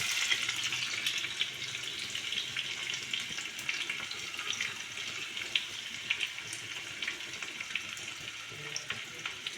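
Garlic hitting hot oil with mustard seeds for a tempering in a pan, a steady bright sizzle with small crackles and pops, continuous and close, with no talk.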